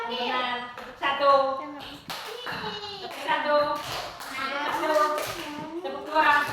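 Schoolchildren clap their hands in a classroom, a few sharp claps breaking through the near, continuous chatter and sing-song voices of kids.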